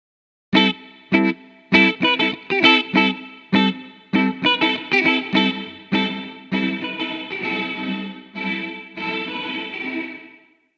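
Musical phrase processed with a reverb effect in Ableton Live during a mixing lesson: a run of sharp, loud repeated hits gives way to a sustained, washed-out tail that keeps ringing to the end.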